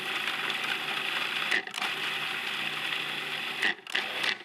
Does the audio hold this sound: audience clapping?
no